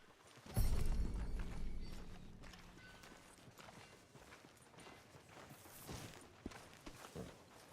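Horse hooves walking in Red Dead Redemption 2, soft clip-clop steps with a louder thud near the start, then sparse footfalls and rustles at low level.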